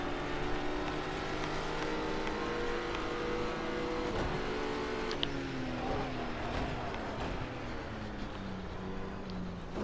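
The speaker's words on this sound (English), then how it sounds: "This Porsche is right there." A Porsche car engine hums steadily in a video game, a moderate sustained tone that shifts in pitch as it revs, with no talk.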